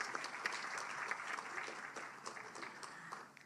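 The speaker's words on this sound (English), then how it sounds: "Let's have another round of applause for that." Audience applause fills a press conference room, steady clapping from a crowd throughout, moderately loud with no talk over it.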